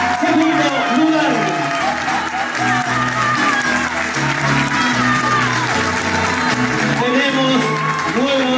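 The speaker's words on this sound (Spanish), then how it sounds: "Fuerte aplauso para el segundo lugar." A crowd at a regional dance championship in San Pedro, Chile applauds the second-place couple, a sustained wash of clapping and cheering mixed with loud music and voices.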